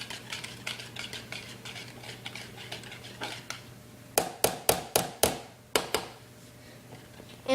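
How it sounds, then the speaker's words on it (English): A wing sauce is whisked in a bowl, with a run of quick scraping strokes and then a burst of sharp metallic taps against the bowl's side, close and fairly loud. "And then give it another whisk."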